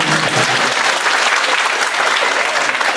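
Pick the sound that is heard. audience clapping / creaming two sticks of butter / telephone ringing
audience clapping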